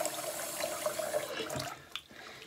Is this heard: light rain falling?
no